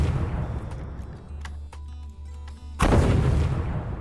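Layered weapon shot for a game: a rumbling low boom and sharp clicks lead into a sudden loud explosion that bursts and then decays.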